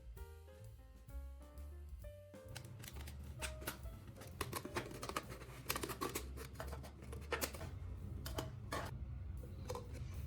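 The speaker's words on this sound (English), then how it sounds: "take a clean plastic bottle and cut off the top." Scissors cut through a clean plastic bottle to remove its top, giving a run of sharp clicks and snips over a steady low background hum, close and fairly quiet.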